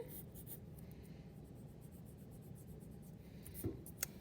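Pencil drawing a self-portrait on paper, quiet scratchy strokes close by, with a few sharper taps and scrapes near the end.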